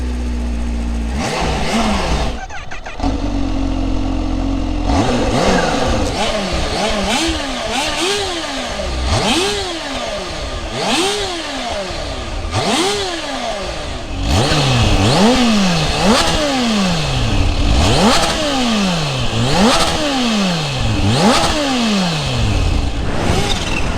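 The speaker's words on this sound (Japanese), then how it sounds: "走行中に空ぶかしするとキュルルルっていう吸気サウンドも聞こえるんですよ" A loud supercharged Kawasaki Ninja H2 motorcycle engine revs again and again in sharp, repeated bursts, each rise and fall distinct, with a whining intake note and mechanical clatter.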